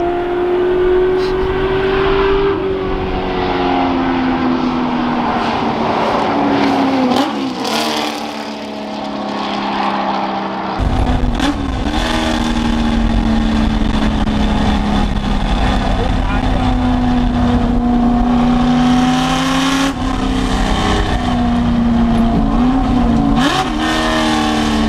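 Ford F100 truck with a custom NASCAR-style exhaust revs loudly and repeatedly, the deep rumble rising and falling in pitch throughout, with excited talking over it.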